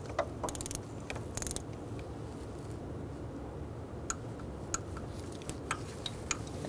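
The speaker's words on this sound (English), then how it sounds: "now we're going to torque these to 108 inch-pounds or 9 foot-pounds" Torque wrench with a 10mm socket tightening thermostat housing bolts on a 2000-2007 Ford Taurus 3.0L V6, a run of faint, close mechanical clicks and ratchet ticks spaced irregularly over low, steady background noise.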